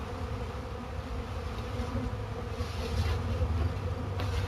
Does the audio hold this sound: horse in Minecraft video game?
no